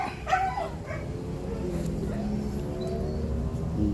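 A dog whimpers and yips in short, high, whiny bursts over steady background noise, with faint voices nearby.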